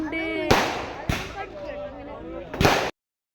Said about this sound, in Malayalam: അപ്പോൾ അത് ലാസ്റ്റത്തെ പടക്കം പൊട്ടിക്കലാണിത്